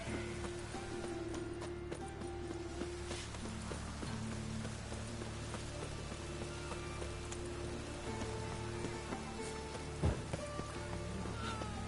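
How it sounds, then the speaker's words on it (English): Rain falling in the video game Witcher 3, a soft steady patter running throughout beneath the clip-clop of horse hooves, with no speech. "Even the rain smells like pessimism."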